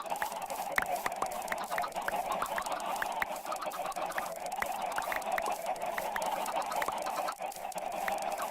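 Chickens cluck and squawk continuously in a dense, steady chorus from a fully automatic chicken farm in Minecraft, with many overlapping short calls and no talking.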